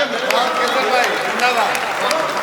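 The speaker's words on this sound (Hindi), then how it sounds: "एक बार तालियां वालियां बजा के।" An audience at a Hindi comedy poetry stage show claps, scattered hand claps running beneath someone talking over them throughout.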